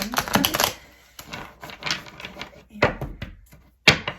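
Tarot cards are shuffled by hand in bursts of crisp riffling and flicking clicks, close and fairly loud, broken by short pauses, with a voice speaking between the shuffles.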